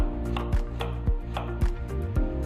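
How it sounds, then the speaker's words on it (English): Knife chopping through an onion on a cutting board, making brunoise-style cuts: four crisp, evenly spaced thuds about half a second apart, close and moderately loud over a steady background hum. "we're going to cut, again, 3/4 of an inch, three-quarters of the way through the onion"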